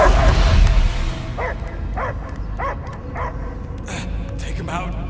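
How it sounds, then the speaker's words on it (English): A dog barks and yips repeatedly in Marvel's Guardians of the Galaxy video game, the barks coming in an even series after a loud rumbling opening, with game sound beneath. "I hear only barking."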